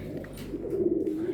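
Pigeons coo softly at close range, a low, throaty rolling call that swells toward the end, with no one speaking.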